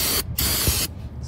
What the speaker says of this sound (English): I like to get some brake clean